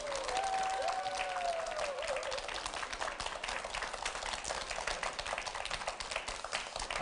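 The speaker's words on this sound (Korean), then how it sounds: "박수 한번" A lecture audience at a televised Korean talk applauds, sustained crowd clapping that stays dense and even throughout, with a brief thin tonal whine near the start.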